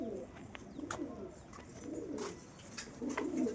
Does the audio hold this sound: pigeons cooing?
yes